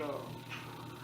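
A cat meows close by, a brief plaintive call over a steady background hum, with a person talking at the same time.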